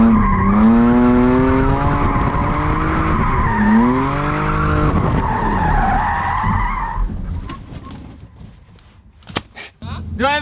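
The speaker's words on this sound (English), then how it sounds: "Let the back end kick out and just carry your drift." A BMW E36 slides sideways in a drift, its tires squealing loudly and continuously with wavering pitch for about seven seconds before fading into engine noise and scattered clicks.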